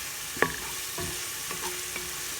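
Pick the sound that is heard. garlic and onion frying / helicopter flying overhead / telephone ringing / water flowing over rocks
garlic and onion frying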